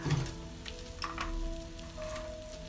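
A thick three-egg omelette with chicken and corned beef fries in a pan, giving a soft, steady sizzle with a few faint crackles, quiet and close, no one speaking.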